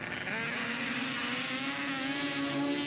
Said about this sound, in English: Here he revs her up.